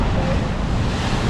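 Ocean surf crashes on the shore at Leo Carrillo beach in California, a dense, close, continuous roar of breaking waves with heavy wind noise buffeting the microphone.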